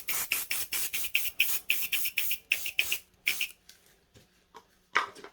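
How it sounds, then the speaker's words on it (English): A spray bottle fires a quick run of hissy spritzes onto resin moulds, about a dozen rapid bursts close to the mic, then a few softer, scattered sprays after a brief pause. "I'll just give them a quick spray if I've got any left."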